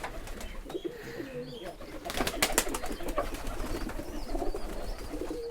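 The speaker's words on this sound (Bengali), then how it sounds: "এই হইলো আমার কবুতর ভাই, শখ করে কবুতর আমি পালি" Giribaz pigeons coo at a pigeon farm in Rajshahi, a steady layered murmur of several birds close by, with a louder burst of rustling and calls midway and a voice occasionally under them.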